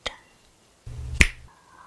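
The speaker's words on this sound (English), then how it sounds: "when I snap my fingers, this trance will end" A single sharp finger snap rings out close and crisp, preceded by a faint click and a brief low rumble, ending a hypnotic trance scene.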